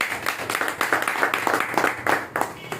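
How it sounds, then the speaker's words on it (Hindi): An audience claps together at a marketing plan meeting, steady dense applause of many hands lasting a few seconds, fairly close with some voices mixed in. "मैं ताली चाहूँगा सबके लिए।"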